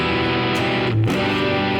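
Electric guitar on humbucker pickups through a Movvall Jumpspace overdrive pedal, a thick, fuzzy sustained chord ringing steadily with a brief pick attack and shift in the middle.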